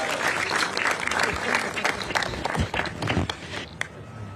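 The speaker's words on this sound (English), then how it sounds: "We want to be able to give a big round of applause to our public defender, Manu Raj." An audience at an outdoor San Francisco rally for immigrant communities claps steadily in a sustained round of applause, with scattered louder claps and faint voices in the crowd.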